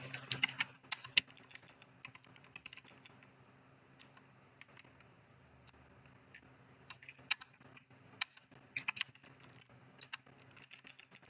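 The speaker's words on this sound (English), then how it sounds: "I'm going to start typing here." Light tapping on a computer keyboard, quiet and close, in irregular bursts of keystrokes separated by short pauses over a faint low hum.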